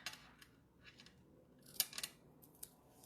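Scissors snip through cardstock in a few quiet, crisp cuts, one sharper snip standing out, with faint handling noise between and no talk.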